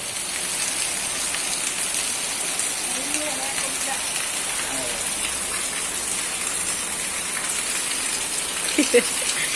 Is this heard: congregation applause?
no